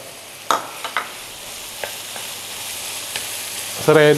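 Ground meat browning in a pan for an English cottage pie as carrots and celery go in, giving a steady sizzle with a few spoon knocks and a louder burst of frying near the end.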